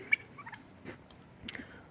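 Bourbon turkeys gobble and chatter in short, scattered calls, fairly close, over a quiet outdoor background.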